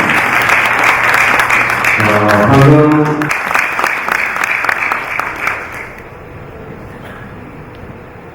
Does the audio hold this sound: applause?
yes